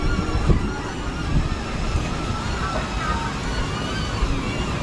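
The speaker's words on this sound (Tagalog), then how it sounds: "lakas ng hangin boy" Strong wind buffets the microphone in a steady, gusting roar with low rumbling bursts during a DJI Neo drone flight, with no clear voices.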